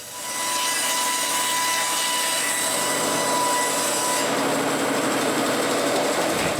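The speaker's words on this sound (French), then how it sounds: "on coupe l'autre côté parallèle avec la première coupe" A power saw cuts along wooden planks for shutters, a continuous loud whining drone with a steady tone and gritty cutting noise that changes character partway through.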